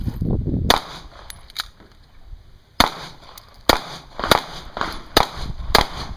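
Pistol shots during an IDPA shooting match stage, sharp loud cracks fired singly and in quick pairs with short pauses between, no talk.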